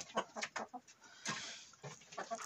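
Chickens, including bantam crossbreeds, clucking in short, scattered bursts close by, with a rooster call partway through, fairly quiet overall.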